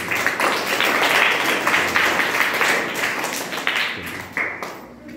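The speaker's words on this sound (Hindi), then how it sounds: "आप लोगों ने ताली बजाया" A crowd of young children at a school clapping together in sustained, uneven applause that fades out toward the end.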